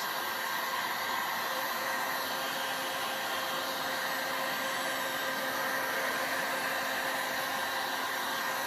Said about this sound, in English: I'm just going to blow this around a little bit. Heat it up, blow it around.